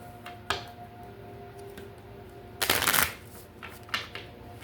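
Tarot cards being shuffled by hand, a few quick riffling bursts including one longer close flurry, separated by soft taps and quiet pauses.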